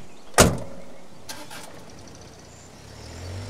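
A car door slams shut with one sharp, close thud as someone gets into the car, followed by a softer knock and then quiet outdoor ambience.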